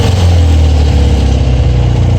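BMW Airhead motorcycle engine with a failed alternator revving up, a loud, close mid-pitched roar rising and holding for about two seconds with no talk.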